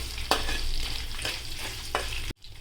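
Steady oil sizzle as four dried red chillies and garlic fry, with a few sharp spatters and stirring scrapes, close up, ending abruptly.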